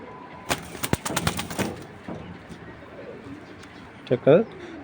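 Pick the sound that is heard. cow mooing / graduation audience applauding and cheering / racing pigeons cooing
racing pigeons cooing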